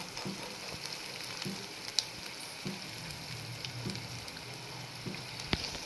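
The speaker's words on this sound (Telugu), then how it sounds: "రొయ్యలు వేసిన తర్వాత కూడా మసాలా అనేది రొయ్యలకు పట్టేదాకా ఒక పది నిమిషాలు సిమ్లో పెట్టి మగ్గనివ్వండి" Small prawns in a masala curry bubbling gently in a pan, a soft continuous simmering hiss with faint periodic pops and a couple of sharp ticks, no voices.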